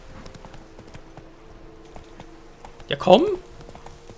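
Horse hooves clip-clop at a steady, even pace in The Witcher 3, soft and continuous under a brief spoken call near the end.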